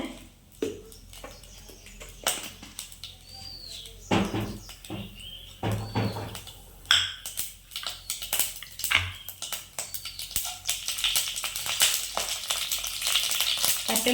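Fenugreek seeds and chillies fry in hot oil in a kadai for chicken kondattam, the close crackle building from scattered pops into a dense, continuous sizzle, with faint bird chirps in the background.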